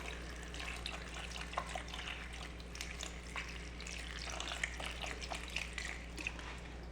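Water trickles and splashes steadily into a wheatgrass growing tray, a soft, continuous pouring sound with faint drips, close by and quiet.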